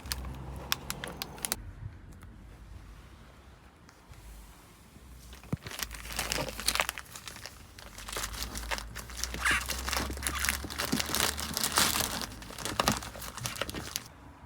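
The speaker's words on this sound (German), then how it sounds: "Um die Folie am Sitz vollständig entfernen zu können, musste ich den Sitz ausbauen." Thin plastic protective film being peeled and crumpled off the parts of a LIMA Q3 cabin scooter, with crinkling bursts and small knocks coming close and fairly loud in irregular spurts over a low background rumble.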